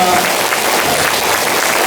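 A dense, steady burst of applause from a large crowd at a talk concert in Busan fills the whole moment at full volume.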